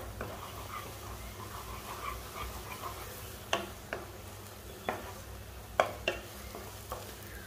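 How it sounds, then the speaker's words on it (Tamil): A spoon scrapes and knocks against a pan while banana halwa is stirred and cooked down, with a soft sizzle beneath and several sharper clinks in the second half, nearby and without speech. "பழத்தில் உள்ள ஈரத்தன்மை போய் நல்ல பழம் சுண்டு வர்ற அளவுக்கு மிக்ஸ் பண்ணி விட்டுக்கோங்க."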